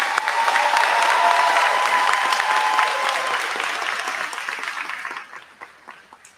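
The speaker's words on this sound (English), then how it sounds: "Let's give a round of applause for the teachers and staff." A crowd at a Crosstown High Class of 2023 graduation ceremony applauds the teachers and staff: steady, full clapping that holds strong for a few seconds, then thins and fades out.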